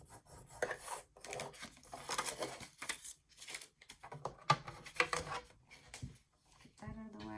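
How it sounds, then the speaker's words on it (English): A scoring tool scrapes along paper in repeated close rasping strokes for a handmade gift card wallet, short rubbing passes with small gaps, and a voice briefly at the end. "we're doing the same thing, scoring at 1/2 inch around 3 times"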